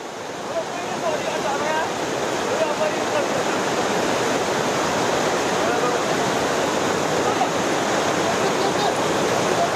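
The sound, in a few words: rushing stream water in Chamoli, Uttarakhand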